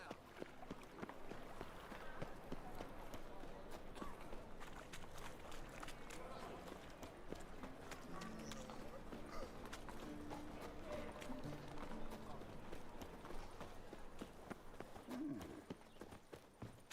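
In The Witcher 3, the horse Roach gallops with rapid, steady clip-clop hoofbeats under faint game ambience, while a voice speaks over the hooves.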